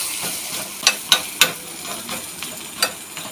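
A moong dal snack fries in oil in a pan with a soft ongoing sizzle, punctuated by several sharp metallic clicks and taps of a spatula or lid against the pan.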